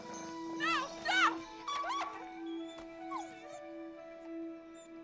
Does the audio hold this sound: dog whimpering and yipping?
yes